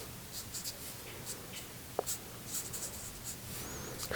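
A thick-tipped pen scratches across paper in short strokes while drawing, soft and close, with small taps between lines and a faint background hiss.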